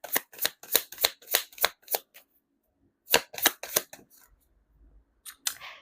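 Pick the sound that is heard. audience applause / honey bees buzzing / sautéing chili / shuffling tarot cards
shuffling tarot cards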